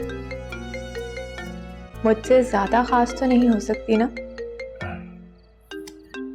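A phone ringtone plays as a call comes in, a repeating melodic tone that keeps going under a voice and a brief exchange of dialogue in a TV drama scene.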